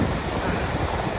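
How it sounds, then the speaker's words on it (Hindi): Strong wind blows through Niti Valley, a steady broadband rush buffeting the microphone for a brief moment, with no voices. "हवा चल रही है बहुत तेज"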